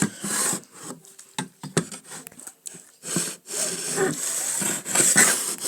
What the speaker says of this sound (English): So I've taken the edge off with the sander